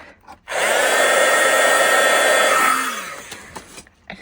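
A handheld heat tool blows hot air onto die-cut paper with a loud, steady whooshing roar for about two seconds, then switches off, leaving faint handling noises.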